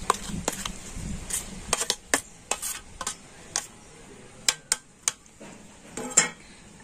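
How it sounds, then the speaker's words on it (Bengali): Potato mixture spooned into a bowl of ground peanuts and sabudana. A spoon makes a series of sharp, irregular taps and clinks against the bowl, with quiet gaps between them, close by and with no speech. "আর এবার আমি গুঁড়ো করে রাখা বাদাম আর সাবুদানার মধ্যে এই আলুর মিশ্রণটা দিয়ে দেব।"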